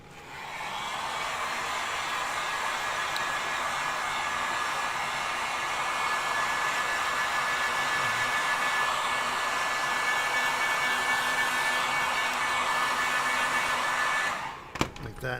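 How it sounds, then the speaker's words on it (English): A heat gun blows hot air in a steady, fairly loud whooshing whine that runs unbroken for about fourteen seconds before cutting off with a few handling knocks. "let's take a heat gun too for these"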